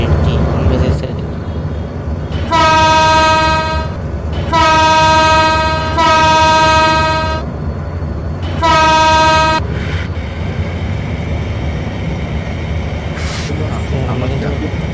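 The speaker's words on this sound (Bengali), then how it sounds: "আমরা কিন্তু ট্রেন ছেড়ে দিয়েছি বরমুড়া এক্সপ্রেস।" The Barendra Express diesel train, departing Abdulpur toward Rajshahi, sounds three loud, sustained horn blasts, two close together and a third after a pause, over steady engine rumble.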